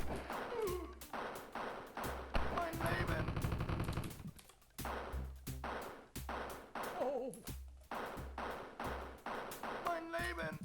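Rapid bursts of game gunfire from Wolfenstein 3D, repeated volleys and single shots with brief pauses, loud and close, with speech also present.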